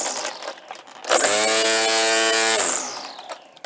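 A Craftsman C3 string trimmer revs up sharply into a loud, close, high-pitched whine, holds for about a second and a half, then winds down as the motor spins to a stop.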